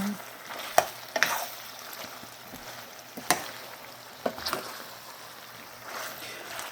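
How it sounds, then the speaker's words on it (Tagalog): Pork ribs fry in their own rendered fat, a soft sizzle with sharp spatula scrapes and clinks at irregular intervals, fairly quiet and close. "i-coat na natin siya para pipirito niya sa sariling mantika"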